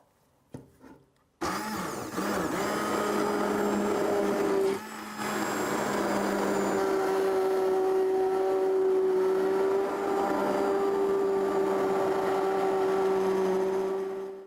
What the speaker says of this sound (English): When you go to blend, make sure you get everything so that you have entirely smooth consistency.